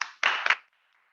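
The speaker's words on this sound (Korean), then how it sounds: "다시 한번 큰 랜선 박수 보내드리겠습니다" A few sharp hand claps ring out in a quick cluster during an online CEO business talk, then fade into a short silence.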